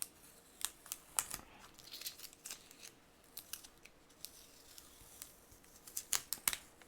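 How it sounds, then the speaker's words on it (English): Tape is peeled slowly off a paper-craft Razor Crest print, giving quiet, close, intermittent crackles and sticky ticks scattered over several seconds. "And then we'll take tape off. Hopefully tape won't peel up the print."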